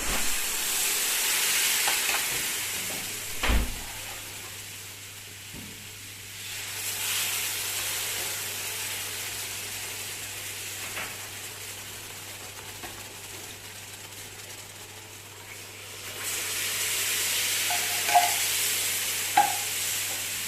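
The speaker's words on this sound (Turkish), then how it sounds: "aslında kavruldu ama bir tık daha kavrulsun." A spoon scrapes and stirs through semolina roasting in a pan for halva, with a soft sizzle and occasional clinks, fairly quiet and unhurried.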